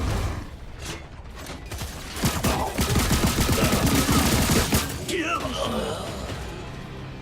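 Gunfire rattles through a match of the video game Lawbreakers, with rapid bursts of automatic shots and mechanical clatter loud up front, while game voice lines speak over part of the fighting.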